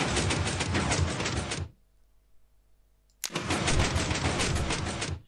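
A Minecraft incremental flying machine engine running: two loud, broad whooshing bursts of mechanical noise, each about one and a half seconds long, separated by a brief quiet gap.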